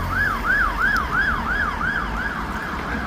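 Fire brigade and ambulance sirens wailing at a busy roundabout in South Woodford, a loud, rapid rising-and-falling wail repeating evenly over road traffic rumble.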